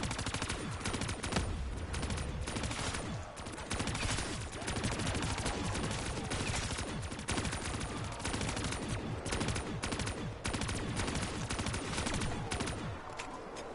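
Dense, continuous automatic gunfire from Call of Duty Black Ops 3 Zombies on the Giant map runs nearly nonstop for the whole stretch, with rapid shots and brief pauses at a steady loud level.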